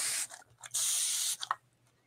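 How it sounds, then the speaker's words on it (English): Mica spray misted onto watercolor paper in two close hissing bursts, a short one then a longer steady spray, with light rustling between and after. "so now I'm gonna spray a little bit more"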